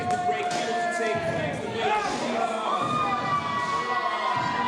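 Crowd at a professional wrestling match cheering and shouting in a hall, a loud continuous roar with whistles and high voices rising and falling, with a commentator talking over it.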